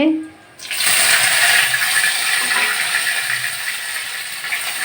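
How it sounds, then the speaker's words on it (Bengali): Bay leaves and chopped dried red chillies land in hot oil, setting off a sudden steady sizzling hiss after a brief quiet start, sustained and fairly loud throughout. "দিচ্ছি দুটো তেজপাতা কুচানো শুকনো লঙ্কাগুলো দিয়ে দিচ্ছি"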